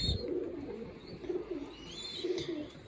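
Racing pigeons coo in a loft, soft repeated low throaty calls rolling over one another close by, with a faint higher chirp now and then.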